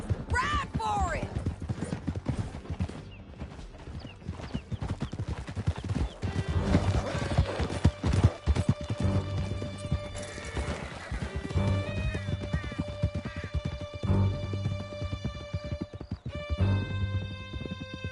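Horses galloping through a canyon in a video game, steady loud hoofbeats with whinnies near the start and music running underneath.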